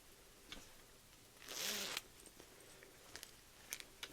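A single short zipper pull, a quick rasping burst in a quiet room, with a few faint ticks and taps before and after.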